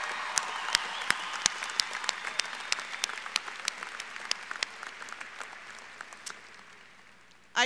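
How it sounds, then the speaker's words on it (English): A university commencement crowd applauds, a broad wash of clapping with sharp individual claps standing out, gradually thinning and fading toward the end. "One more round of applause."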